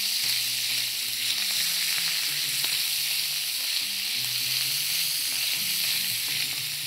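Sausage fries in its own rendered fat in a pan with no added oil, giving a loud, dense, continuous sizzle with crackling fat, heard up close and without any talking.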